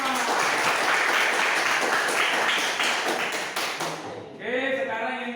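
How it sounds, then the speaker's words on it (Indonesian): Classroom applause from a group of students, a dense burst of clapping and tapping that runs steadily for about four seconds and then gives way to a voice speaking. "Tepuk tangan untuk kita semua."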